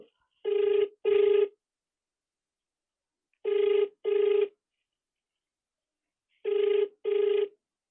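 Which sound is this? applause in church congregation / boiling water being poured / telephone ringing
telephone ringing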